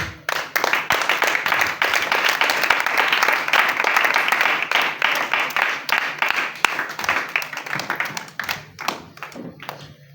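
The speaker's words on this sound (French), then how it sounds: "Est-ce qu'on peut acclamer le Seigneur?" Church congregation clapping to acclaim the Lord, a loud, dense burst of applause lasting about ten seconds that thins out toward the end, with no clear speech over it.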